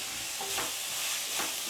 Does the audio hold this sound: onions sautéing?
yes